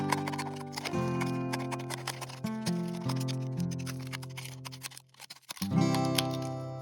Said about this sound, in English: Cut out the bottom of your cup.